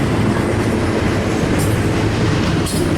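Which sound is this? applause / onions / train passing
train passing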